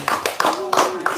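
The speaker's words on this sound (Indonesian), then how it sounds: "Sip, tepuk tangan dong." A few hand claps, roughly four sharp bursts over about a second, close and fairly loud, with voices chattering over them.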